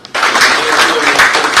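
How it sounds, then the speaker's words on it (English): An audience at a business school event in Goa breaks into applause after a dimmed-lights storytelling performance, a loud burst of clapping that starts abruptly and holds steady to the end. "please give it an applause"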